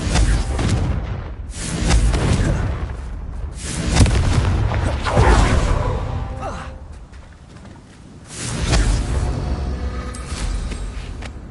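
Repeated fiery blasts of the Confringo spell in a Harry Potter video game, booming bursts of fire and low rumbling explosions rising and fading in waves, loud and close, with a dense crackling tail between hits.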